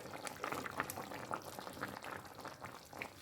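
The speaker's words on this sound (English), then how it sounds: "I'll cover this and allow it boil for another 3 minutes." Nigerian goat, yam and unripe plantain pepper soup boils in a covered pot, giving a soft, continuous bubbling and gurgling at low volume.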